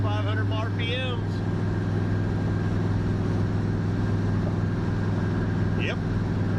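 A 1976 Ford Ranchero 500 cruises on the highway at about 2,500 RPM, a steady low engine drone and road rumble filling the cabin, with a brief voice near the start.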